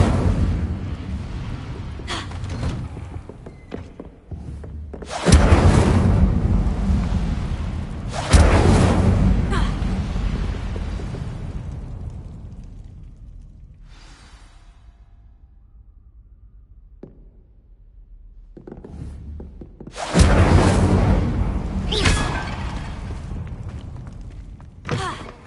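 Incendio fire spells in a Harry Potter-style audio drama: several loud whooshing, booming fiery bursts, each roaring and then dying away, with a long quiet stretch in the middle before a final blast.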